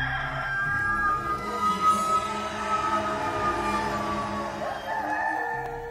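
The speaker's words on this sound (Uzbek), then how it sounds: "Naq shu payt xo'roz qichqirdi." A rooster crows at dawn in a film about Jesus, drawn-out harmonic calls set at moderate distance over a steady, continuous background bed.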